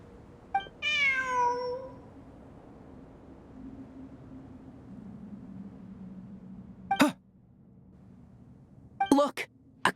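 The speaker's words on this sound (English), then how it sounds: "Look! A cat!" A cat meows in the Genshin Impact desert ruins, one drawn-out call near the start followed by several short, sharp bursts later over a quiet ambient hum.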